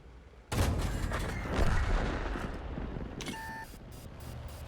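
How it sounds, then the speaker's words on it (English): Artillery shell impact in the tank battle video game World of Tanks: a sudden loud boom that rumbles and decays over a couple of seconds, followed by brief electronic interface tones and continued low battle noise. "The artillery got the kill there."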